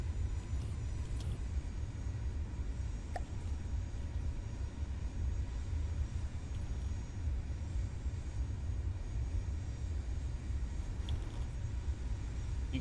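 Aircraft engines in the video game From The Depths give off a steady, droning buzz that holds at an even level without a break, with no talking over it.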